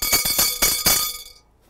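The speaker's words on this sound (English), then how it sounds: "So I'm going to tap these two spoons together." Two spoons tapped together underwater and picked up by a hydrophone, four quick bright metallic clinks with a glassy ring that fades out over about a second.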